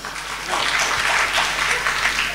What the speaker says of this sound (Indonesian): Tepuk tangan untuk semua pembicara.